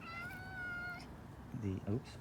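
A garden cat gives a drawn-out, high meow followed by two short, lower chirping mews, heard close and moderately loud, with a quiet outdoor background.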